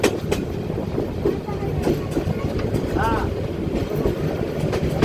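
A train rumbles steadily with rhythmic rail clatter as it enters a station platform at Jamalpur railway station, a brief squeal rising partway through, while people talk nearby over the noise.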